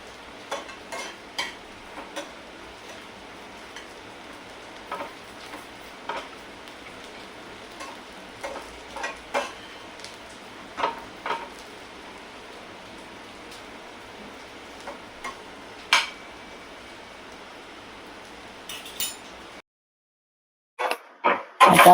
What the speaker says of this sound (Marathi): एवढ्या तेलामध्ये बघा खोबरं आणि कांदा मस्त होणार आहे